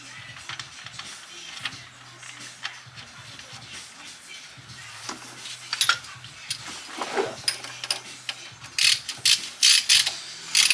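A hand ratchet snugs a plug back into the fill hole of a vehicle's rear differential, giving bursts of sharp clicking that grow louder and denser toward the end, with a low hum underneath.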